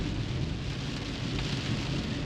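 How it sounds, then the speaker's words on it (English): Steady rain falls on a street in Heraklion, Crete, Greece, a dense continuous hiss with a low rumbling undertone, loud and close throughout with no talking. "It's getting even more interesting while it's raining."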